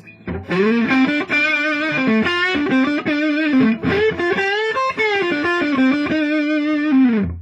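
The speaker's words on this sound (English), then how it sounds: "Go ahead and put on the direct drive with a lot more distortion" A heavily distorted PRS Mira electric guitar plays a run of sustained, saturated notes and chords, loud and close, with a thick, gritty overdriven tone throughout.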